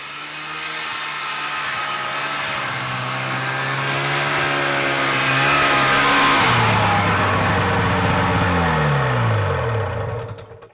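A snowmobile engine drones steadily up close as it drives through trees, its pitch rising and falling with throttle changes before cutting off abruptly at the end.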